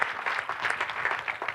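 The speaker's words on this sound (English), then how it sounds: "Give him a big round of applause." Audience applause at a motivational seminar, a brief burst of steady clapping from a seated crowd, fairly close and even throughout.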